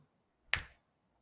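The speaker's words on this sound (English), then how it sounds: "when I snap my fingers, I want you to say it in your mind" A single crisp finger snap, sharp and close, stands alone in otherwise near-silent surroundings.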